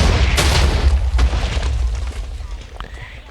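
A village is blown up in a deep, heavy explosion. A loud low boom rolls on and slowly fades, with a few sharper cracks inside the rumble and a voice talking over it.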